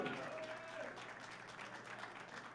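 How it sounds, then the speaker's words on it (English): Crowd applause for the second-place finisher at an equipped bench press championship, a continuous clapping wash across the hall, moderately distant and even, with faint voices beneath. "A round of applause, please."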